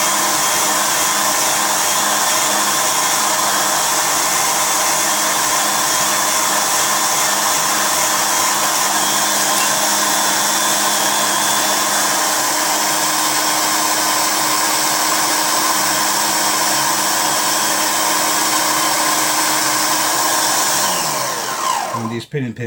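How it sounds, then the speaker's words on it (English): A lock pin shaft is sanded smooth with a motorized tool, giving a loud, steady whirring grind that runs unbroken for about twenty seconds before cutting off at the end. "I'm just going to dress the shaft a little bit more, sand it,"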